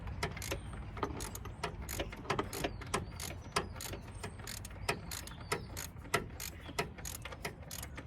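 A ratchet with an extension tightens a car's oil drain plug during an oil change on a Camaro, giving a rapid, steady run of close metallic clicks, fairly quiet and without talk.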